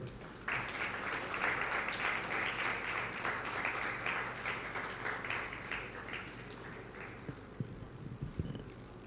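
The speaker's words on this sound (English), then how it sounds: "Please clap for them." Audience applause for award winners at a startup awards ceremony in Nigeria, a steady dense wash of clapping filling the hall, loud and sustained before thinning toward the end.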